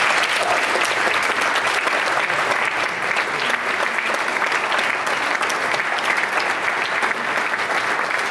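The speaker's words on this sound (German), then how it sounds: "Ich finde das ein extra Applaus." Sustained applause from a concert audience at a big band performance, dense and steady throughout with no voices on top.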